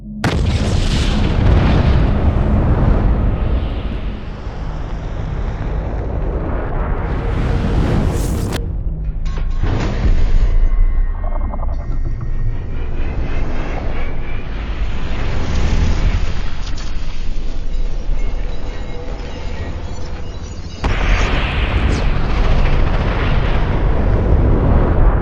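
Dragon's Breath shotgun shells loaded with magnesium fire outdoors as loud, close booms, each followed by a roaring, crackling fireball rush; several separate blasts occur over the span with brief quieter gaps between.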